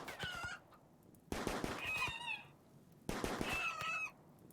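A rooster in the RimWorld video game clucks and squawks in three separate bursts, close and clear, with short pauses between.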